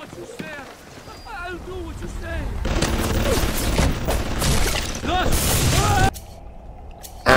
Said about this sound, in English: because I really like the shotty in this game